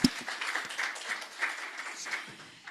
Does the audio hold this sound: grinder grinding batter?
no